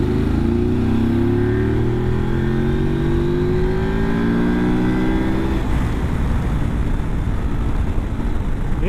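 KOVE 800 Adventure motorcycle pulling in fourth gear, a loud, close engine note rising steadily for several seconds before easing off, with wind rush throughout.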